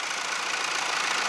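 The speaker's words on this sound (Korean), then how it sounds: "시동이 걸린 상태에서 자세히 엔진 소리를 들어보면" A Hyundai dual-clutch transmission car idling while stopped, giving a steady, fairly faint mechanical hum with a fine rapid rattle running through it, heard alone without talk.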